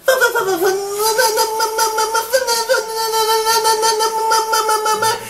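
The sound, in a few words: voice imitating consonant-only poem sounds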